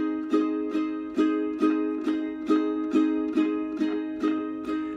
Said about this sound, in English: the very first chord is an F